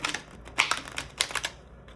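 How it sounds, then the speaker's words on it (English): A tarot card deck is shuffled, giving quick close papery riffling and crisp flicking bursts in an uneven rhythm over about two seconds. "I'm just going to shuffle with you guys"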